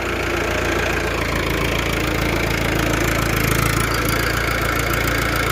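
A tractor engine runs steadily nearby during a failed attempt to reverse, a loud continuous low diesel chug with a knocking pulse throughout, without talk.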